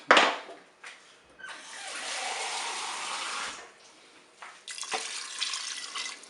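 Water pours from a tap into a Cookeo pot to cover farfalle pasta, splashing in short bursts and steadier streams with brief pauses between them.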